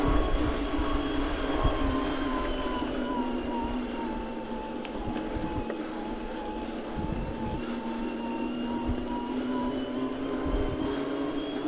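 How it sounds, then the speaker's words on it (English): The motor of a Denago eXC1 entry-level hardtail electric mountain bike gives a steady, soft, high-pitched whine while riding on a trail, under continuous rolling and wind noise, with no talking. "As we go through this next session, I will let you listen to that motor."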